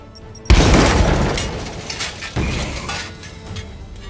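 A grenade goes off in the turn-based game Warhammer 40,000: Chaos Gate - Daemonhunters with a sudden loud boom, then shattering debris. A second burst follows about two seconds later, and both decay into crackling rubble.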